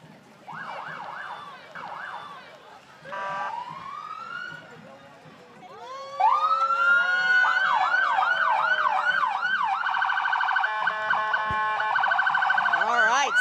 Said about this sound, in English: Sounding out the sirens as the SWAT vehicle rolls by.